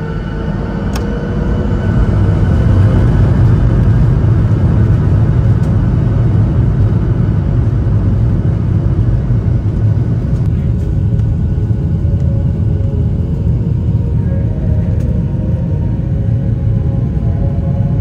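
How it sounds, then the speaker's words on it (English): A Lion Air Boeing 737-800 takes off from Lombok International Airport, its engines building into a loud, steady broadband roar and deep rumble that holds for the whole stretch without any talk. "it was now time to take off from Lombok International Airport"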